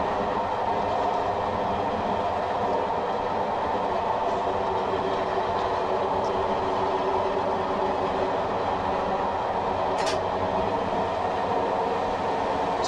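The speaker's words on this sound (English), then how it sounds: "I'm now going to idle the power just to allow the train to coast, as we're doing around 70 miles per hour." A Class 421 electric train coasts at about 70 mph between Tonbridge and Hastings in Train Simulator 2018, a continuous loud rumble of wheels and running gear with a steady hum and a brief click near the end.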